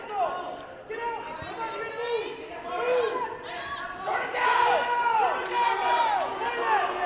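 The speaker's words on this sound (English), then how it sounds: "His teammates over on the side of the mat cheering on Rael." Wrestling teammates cheer and shout from the side of the mat during a high school match, loud overlapping voices and yells rising and falling under an announcer's talk in a gym.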